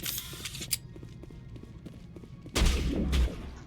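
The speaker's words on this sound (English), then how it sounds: "Who's shooting me?" Gunfire in the sci-fi shooter Mass Effect: scattered sharp shots and soft taps over background game noise, then a louder burst of fire with a low rumble near the end.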